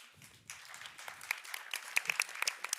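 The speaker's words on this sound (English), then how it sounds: "let's keep the applause coming" Audience applause at a sustainability summit, starting after a brief quiet moment and then swelling into scattered, fairly faint clapping with distinct individual claps.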